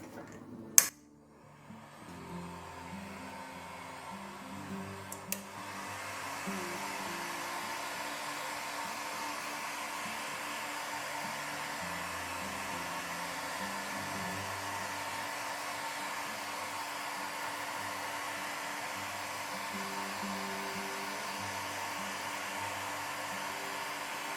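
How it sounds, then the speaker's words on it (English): A heat gun blows steadily over candle wax in a pine-scented evergreen Christmas candle, a continuous close whooshing hum with a few clicks before it starts. "And now let's go over with the heat gun again."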